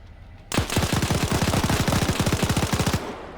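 Anti-tank machine gun in a video game firing one sustained, rapid burst of about thirty close, evenly spaced shots that lasts roughly two and a half seconds, with no talk.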